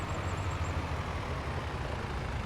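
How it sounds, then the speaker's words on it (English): A tractor engine in Farming Simulator 25 runs as a steady, low, rumbling drone, like a constant idle, with faint high chirps early on and no talking. "So we are hopping back in our tractors."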